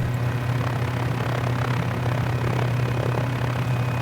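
A Mini 500 helicopter engine in a flight simulator game drones steadily with a low, constant hum and broadband rotor wash, loud and unbroken throughout with no talking.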